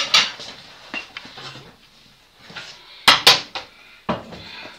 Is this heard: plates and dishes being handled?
yes